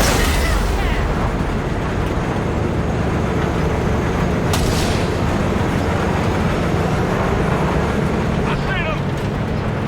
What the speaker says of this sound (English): All right, the train's leaving.